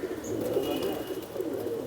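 Soft, low cooing of a racing pigeon kept by a champion flying-pigeon breeder, a steady murmuring coo close by with faint bird chirps over it and no talk.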